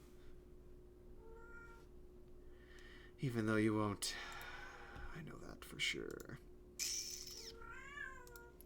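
A house cat meows loudly and repeatedly nearby, several drawn-out vocal cries with pauses between them, while a person talks quietly over a steady low electrical hum.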